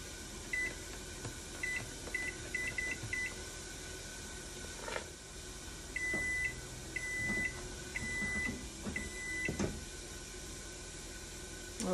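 A kitchen timer is set for one minute, giving two runs of short, bright electronic beeps over a steady kitchen hiss and hum.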